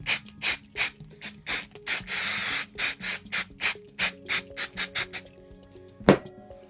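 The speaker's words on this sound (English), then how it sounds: "I'm going to give it another spray up." Short hissing bursts and scraping strokes, with one longer continuous spray hiss in the middle, close up and rhythmic, as brake cleaner is sprayed on the differential parts of a Losi 8ight 3.0 electric RC buggy.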